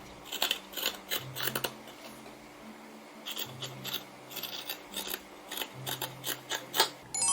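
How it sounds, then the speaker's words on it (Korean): Scissors snipping through fabric while cutting out a pattern for a sleeveless dog dress, a run of crisp, close, rhythmic cuts separated by brief pauses. "가위로 자릅니다."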